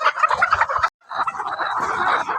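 Many hens in a layer poultry farm cluck and cackle together in a steady mass, cutting out briefly before the flock's noise resumes, with a few sharper calls above the din.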